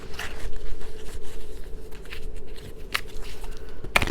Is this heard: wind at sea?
no